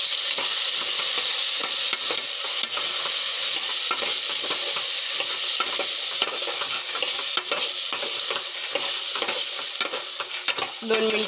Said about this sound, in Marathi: दोन मिनिटं तेलामध्ये होऊ देऊ याला, वाटाण्यांना।